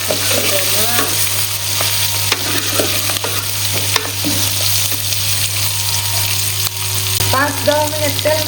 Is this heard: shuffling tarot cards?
no